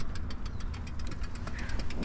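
A small vehicle engine turns over and runs with a rough, knocking idle during a group ride, close and steady for a couple of seconds with no one talking.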